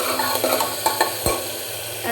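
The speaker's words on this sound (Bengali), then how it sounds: "মশলা ভাজা ভাজা হয়ে আসছে" Spices with garlic, ginger and black pepper frying in a pan as a utensil stirs them, a steady close sizzle broken by a few scraping knocks.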